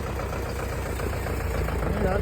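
Mahindra tractor engine running steadily in a levelled field being readied for ploughing, a close, continuous low mechanical drone that holds even throughout.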